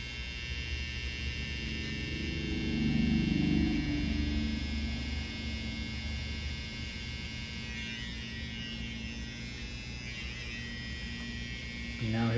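An electric beard trimmer buzzes with a steady mains-like hum while outlining a beard, swelling slightly louder at times as the blades press in, with talking over it.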